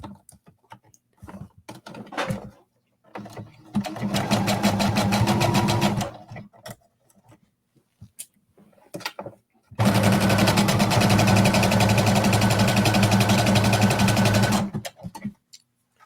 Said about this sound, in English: I know you're not supposed to sew over pins, but I'm going to